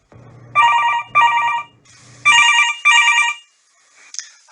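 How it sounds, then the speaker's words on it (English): A telephone bell rings in two double bursts of trilling rings, loud and close, with a faint low hum under the first pair and a brief click afterward. "the phone rang"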